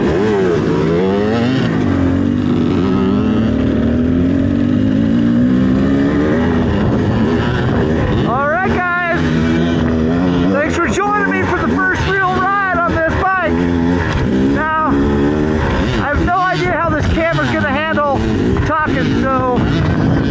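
2024 Beta 300RR Race Edition dirt bike with a stock, jetted two-stroke engine, revving and shifting while ridden, its pitch climbing and falling in repeated bursts, close and loud, with a rider talking over it.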